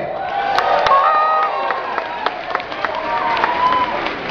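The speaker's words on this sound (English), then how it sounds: "Give a cheer!" A crowd cheers and shouts at a Sonic the Hedgehog fan event, with whoops and cries rising over a busy hall, loud and close.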